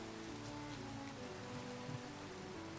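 Steady rain in Minecraft, the game's continuous patter of falling drops holding at an even level throughout, with a small bump near the end and no voices.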